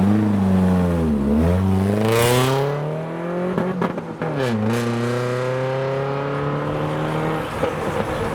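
A loud, slammed purple Renault Clio with heavy rear camber revs and pulls away from a car show, its exhaust note rising and falling through two gear changes, close and sustained.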